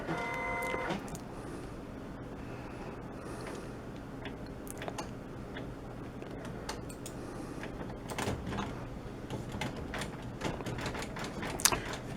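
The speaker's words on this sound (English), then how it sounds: "and turn on the printer." Inkjet or desktop printer running a job to print pages of a book, a steady mechanical whir with repeated ticks and feed clicks throughout, close and fairly quiet, no talking.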